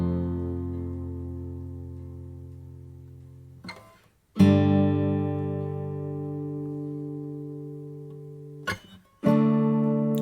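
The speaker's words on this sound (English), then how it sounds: "I think it's actually on a Spanish guitar." Spanish guitar on a demo recording, with soft, sustained plucked notes ringing out and slowly decaying, broken twice by brief strums before fresh notes ring on, heard alone and fairly quiet.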